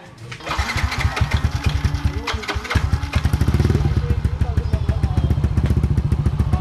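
Yamaha NMAX 180cc scooter engine after a refresh with throttle body, head and radiator refitted, cranking then catching and running with a steady rapid putter, close and loud, with a voice briefly over it.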